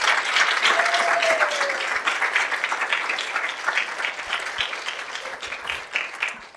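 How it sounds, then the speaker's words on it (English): An audience applauds the presenting student teams after a day of semester presentations, dense clapping loud at first and gradually thinning and softening, with a few crisp individual claps standing out toward the end. "How about another round of applause for all the teams and the work that they did?"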